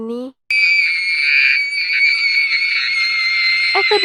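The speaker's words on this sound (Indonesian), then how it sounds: "berteriak seperti kesurupan kuda lumping" A girl lets out a long, piercing scream in the film Orphan, loud and close, sustained for several seconds after a brief instant of silence, with a short voiced sound just before it.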